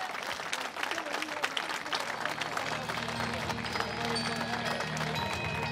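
Crowd applause at a handisport award ceremony honouring the women's tandem podium, a dense, steady wash of clapping that runs the whole time with voices mixed in over a low hum.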